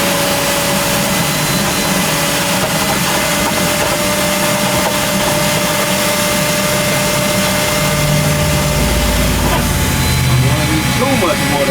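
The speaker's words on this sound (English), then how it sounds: "It's time to vacuum this out." A wet vacuum drawing standing water out of the interior of a 2015 Kia Optima during a teardown, a steady loud motor roar running throughout with gurgling slurps near the end.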